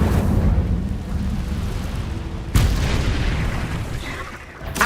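A fire spell is cast in the video game Hogwarts Legacy, giving loud, continuous roaring bursts with a sharp explosive swell midway. The fiery rumble stays dense and close throughout.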